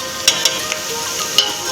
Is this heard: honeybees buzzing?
no